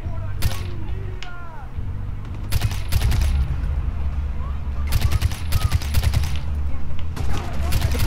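Bursts of gunfire from sniper and other weapons in the video game Far Cry 4, with several rapid volleys of sharp cracks over a low rumbling game soundscape, interspersed with quieter stretches.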